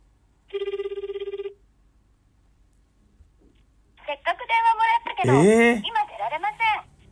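A telephone rings in one steady burst on an outgoing call during a heated dispute, then people talk over a busy background.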